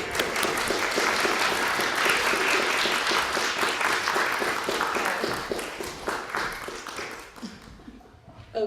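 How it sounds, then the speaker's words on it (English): Applause at a club's general meeting, a room of people clapping steadily for several seconds, then thinning out and fading to scattered claps before stopping. "A big round of applause for Pam"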